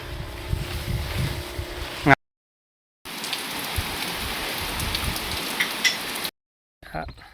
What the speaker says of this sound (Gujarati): અત્યારમાં એટલો વરસાદ આવી ગયો છે